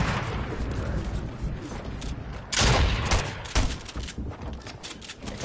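Rapid gunfire and explosions in a shooter video game, a dense continuous barrage of shots with heavier booms bursting through, loud and busy throughout.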